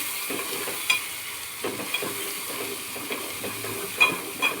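Red chili powder being sautéed in a pan for Maharashtrian egg curry, a steady soft sizzle with scattered stirring scrapes and light clinks of a spoon against the pan, close and without talk.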